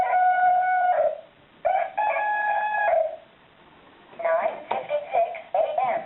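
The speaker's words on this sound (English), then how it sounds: "You'll notice it does two cockerel sounds." A talking alarm clock's electronic rooster crowing, repeated several times with short pauses between calls, thin and tinny like a small speaker.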